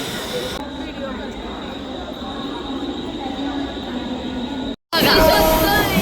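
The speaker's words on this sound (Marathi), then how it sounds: "आम्ही आता खोपोलीची ट्रेन लागलेली आहे." Train to Khopoli in Maharashtra, heard from inside as a steady rumble of wheels and carriage noise that cuts out briefly near the end before returning louder.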